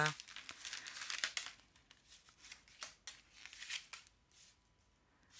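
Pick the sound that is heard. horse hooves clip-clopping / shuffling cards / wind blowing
shuffling cards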